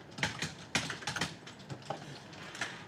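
Someone types on a computer keyboard during a server networking class, with quick, irregular clicks of fairly soft keystrokes and no talk.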